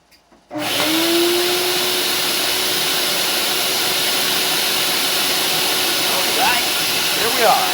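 A vacuum cleaner starts up after a brief moment of quiet and runs steadily with a loud whining hum, with faint sounds over it near the end.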